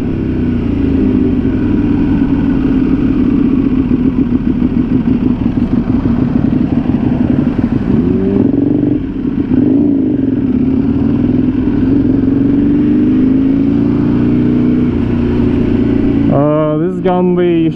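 A sportbike engine roars loud and close throughout the ride, holding a steady drone in low gear. It surges into a rising rev near the end.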